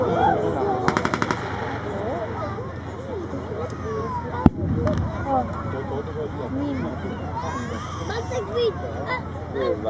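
Machine-gun bursts and scattered rifle shots ring out during a reenactment of a 1945 battle at Przodkowo, with a rapid burst early, a sharp single crack midway, and continual background crowd talk and engine rumble.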